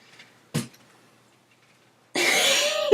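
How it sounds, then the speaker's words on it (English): A single sharp cough breaks a quiet room, followed by a gap and then a burst of rustling, breathy noise. "excuse me, I had a cough."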